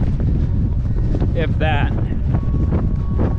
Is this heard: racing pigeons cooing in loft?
no